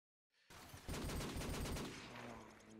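Rapid machine gun fire in Call of Duty 4, a dense burst of shots opening abruptly after a short silence and rattling continuously, loud and close, before tapering into a fainter tail.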